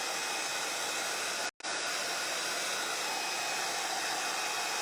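Heat tool blowing steadily and loudly as it warms a foil piece for a craft project, a continuous airy roar broken by one brief cutout, with no voices.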